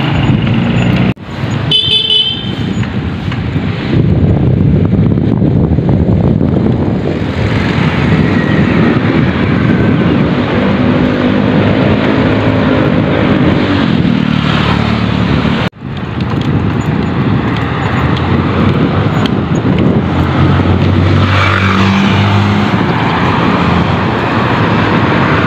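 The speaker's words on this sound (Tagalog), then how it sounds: "So dito na tayo sa highway ulit, pauwi na tayo." Loud, continuous highway traffic heard from the roadside while cycling, with cars and heavier vehicles roaring past in overlapping waves, a couple of short horn toots near the start and one abrupt break midway.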